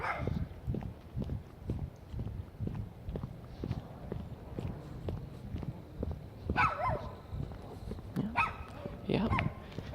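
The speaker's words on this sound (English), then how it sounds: "I'm gonna pass by some other dogs and they're gonna bark." Dogs bark in quick repeated bursts as someone walks past them. The barking is fairly faint and distant, mixed with footsteps and light background movement.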